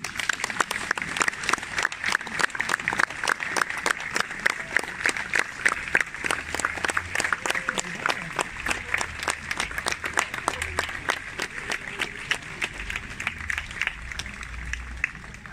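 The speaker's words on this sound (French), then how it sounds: "Mesdames et messieurs, vous pouvez les applaudir." Spectators at an Austerlitz battle reenactment on Place d'Austerlitz in Ajaccio applaud the reenactors, a steady, dense crowd clapping that carries on evenly for the whole stretch, fairly near and loud.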